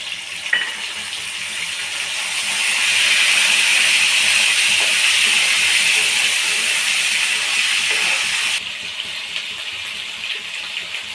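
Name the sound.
ginger garlic paste sizzling in hot oil in a pan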